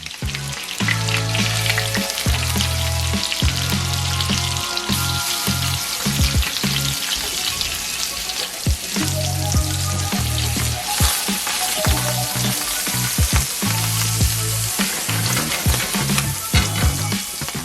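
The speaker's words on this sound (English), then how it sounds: "Alright, so I'm going in with the lobster flesh side down." Lobster searing flesh side down in a pan with butter, a loud, steady sizzle and crackle of frying close up, with background music and no talk.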